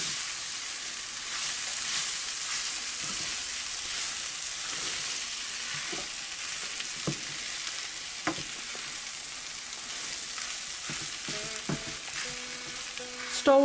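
Potato filling for aloo tikki stirred in a hot pan, a continuous sizzle with occasional spoon scrapes and light taps, close and steady with no talk.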